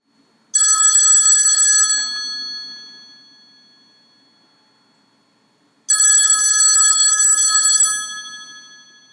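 A telephone bell rings in two loud, close bursts of about a second and a half each, separated by a pause, with the ring fading between them.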